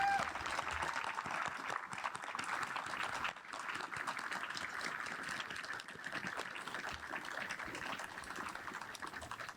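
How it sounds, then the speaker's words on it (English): An audience at a veterans salute ceremony claps steadily for veterans and active duty service members. The applause is continuous but fairly quiet and distant, with a brief dip partway through. "with a round of applause."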